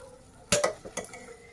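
A spoon stirs potatoes and eggplant in a pan, giving a few quick metallic clinks and scrapes, close and fairly quiet, with no talking.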